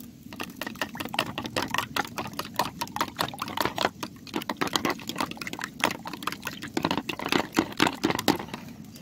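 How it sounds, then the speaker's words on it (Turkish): Eggs whisked with salt in a bowl for menemen, a quick irregular run of wet clicking and tapping strokes, close and steady for several seconds with no talking. "güzelce bir çırpalım"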